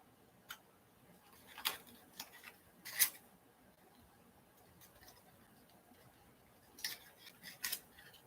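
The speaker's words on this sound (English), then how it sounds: "I'm going to use my snips here and snip it away" A few sharp, quick snips from sewing snips cutting thread on a pincushion project, spaced irregularly against a quiet room.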